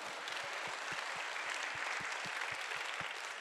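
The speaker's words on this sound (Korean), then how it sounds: "우리 하나님께 영광의 박수 드립니다." A church congregation gives sustained applause during a sermon, a broad even wash of many hands clapping at moderate volume from across a large hall, with faint rhythmic low thumps beneath.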